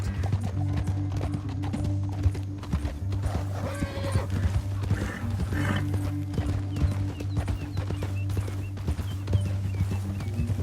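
Hooves clip-clop in a quick, steady rhythm over a low humming bed, with an occasional horse whinny, continuous and fairly close, from the video game Red Dead Redemption 2.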